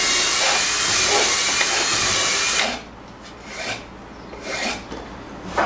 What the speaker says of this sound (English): next I'm going to cut all these slats down to make this front slidey section thingy going on